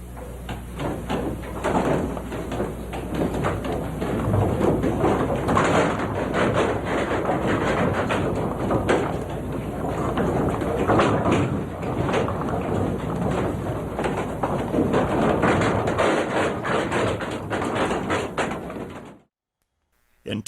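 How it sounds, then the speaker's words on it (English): Continuous creaking and rumbling of an old wooden Danish windmill turning in the wind in Elk Horn, steady and fairly loud, with faint voices mixed in, then it cuts out near the end. "When you hear the noise up there, that's the wind changing, and that's the creaking old mill."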